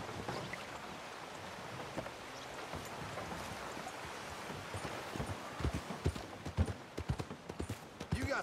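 Horse hooves clip-clop in the Red Dead Redemption 2 video game, a steady run of soft, close hoof strikes that grows louder toward the end under a faint wash of ambient game sound.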